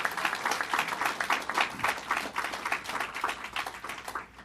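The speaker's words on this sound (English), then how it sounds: "let's give them a round of applause" An audience applauds at a televised citizenship call-in event, a continuous round of many hands clapping with rhythmic pulses that tapers off near the end.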